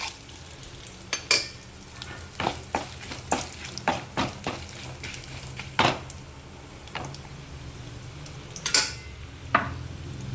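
Coriander seeds, cumin, chana dal and sesame seeds frying in a pan, with repeated close scraping stir strokes and occasional clinks of the spoon over a low sizzle, no voices.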